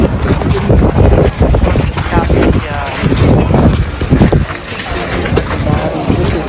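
Wind gusts buffet the microphone outdoors among the ruins of Pompeii, a steady roaring rush across the whole clip, with voices talking faintly beneath it.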